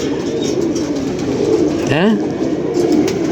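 A pigeon coos once, a clear rising-falling call close by, over a steady background hum and people talking.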